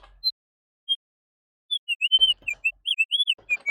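Synthesized bird calls made in VCV Rack modular software: sparse isolated chirps at first, then a quick run of bright, sliding tweets against near silence.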